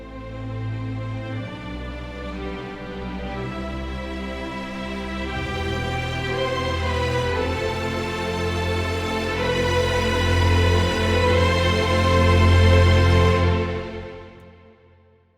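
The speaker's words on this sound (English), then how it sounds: "Let's do the violin melody next." Virtual orchestra violin melody doubled an octave above, with the two octaves of sampled strings gliding over sustained lower orchestral chords, full and steady before fading out.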